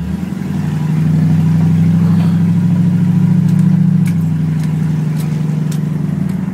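A V8 car engine roars at full throttle with a deep, rumbling growl, swelling and holding loud up close before easing off slightly.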